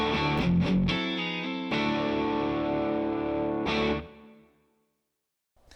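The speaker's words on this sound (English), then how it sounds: "I'm playing this beautiful Collings 290 with ThroBak P90 pickups." A Collings 290 electric guitar with ThroBak P90 pickups plays through a Silktone amplifier, loud sustained chords with effects colouring, a few sharp strums and then a long ringing decay into near silence.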